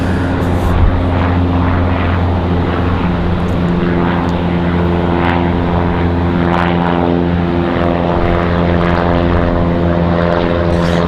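A Sun Country airliner flying near Raleigh-Durham International Airport, a loud, steady engine roar and drone that holds throughout.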